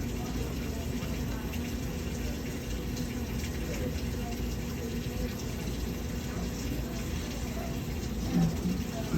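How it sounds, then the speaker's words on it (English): Cold water runs from a tap over a brush while dentures are being invested, a steady, close rushing and splashing that continues evenly throughout. "run it under the nice cold water."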